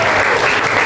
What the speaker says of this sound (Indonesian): Tepuk tangan untuk Cenan.